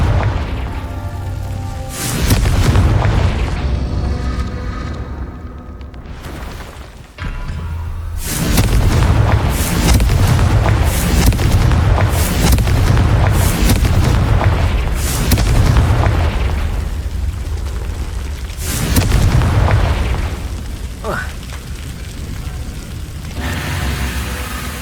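Repeated booming Confringo spell blasts in Hogwarts Legacy gameplay, heavy loud bursts following one another through a dense, continuous battle din with little pause.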